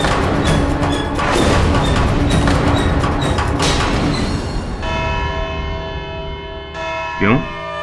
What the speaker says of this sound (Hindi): घंटी बज गई?